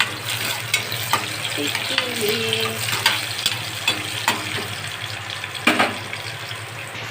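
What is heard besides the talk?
garlic frying in a pan on the gas stove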